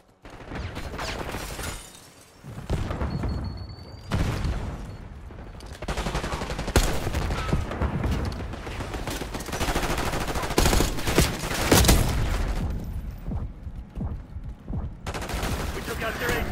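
Gunfire in a Call of Duty: Black Ops 6 multiplayer HVT match: repeated loud bursts of automatic and single shots crackle in close succession almost throughout, with short lulls, under occasional voiced game announcements.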